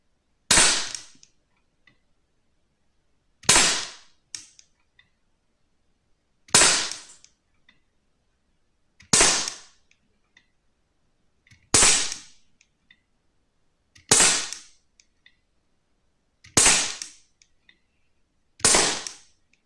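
Eight sharp pellet shots from an Umarex SPA Expert air rifle at a 10 m range, evenly spaced about every two and a half seconds, each a loud close crack with a quick decay into silence.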